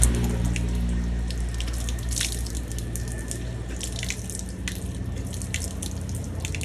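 Running water from a tap splashes and trickles continuously into a sink during face washing for wudu, close and steady with no talking.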